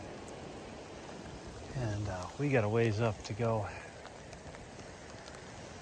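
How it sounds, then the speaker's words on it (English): Rain falling in mountain crags on a Dall sheep hunt, a constant hiss of drops on surfaces running throughout, with someone talking briefly over it midway. "Well, it started raining,"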